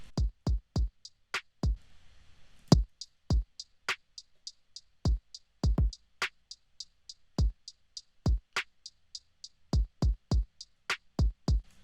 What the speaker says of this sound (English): I wrote the drums first, and the drums sound like this.